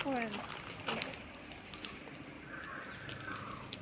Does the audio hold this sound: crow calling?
yes